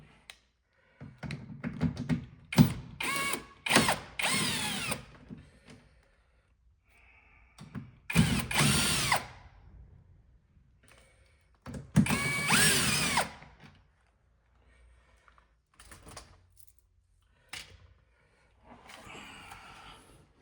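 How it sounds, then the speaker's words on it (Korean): Three 10mm bolts come undone on a Trax Crossover side mirror: several separate runs of a close power driver whirring, with quiet gaps and clicks between them and no speech. "10mm를 가지고 볼트 3개를 풀어줄게요"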